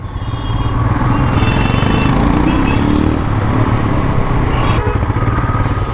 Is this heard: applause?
no